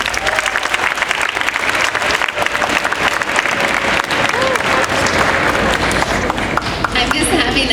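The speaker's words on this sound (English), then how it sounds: "Let's give a round of applause to Mr. Jones." An audience at a spring eighth-grade school band concert breaks into loud, sustained applause, with dense clapping filling the hall and crowd murmur underneath.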